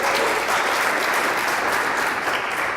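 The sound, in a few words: audience applause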